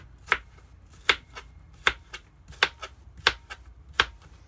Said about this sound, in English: So I'm only using half this particular onion. I'm going to cut it up finely.